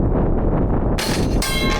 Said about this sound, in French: Objectif, taper la cloche.